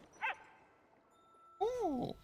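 A dog in the video game Palia gives a short whimpering yip, then a longer whiny, wavering vocalization after a pause, both fairly faint against a quiet background.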